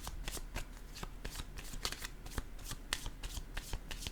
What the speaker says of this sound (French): Je vais déposer une autre carte en regardant séduction et triangle.